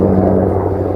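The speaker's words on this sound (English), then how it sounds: "A helicopter." A military helicopter passes overhead along Saddle Road in Hawaii, giving a steady, loud rotor rumble throughout; no talk is heard.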